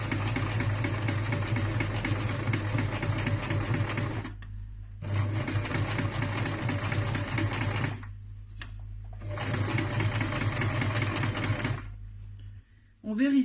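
A sewing machine stitching a circle into a makeup-remover wipe runs in three long, steady whirring bursts separated by short pauses, close and fairly loud, with a faint clack at the end.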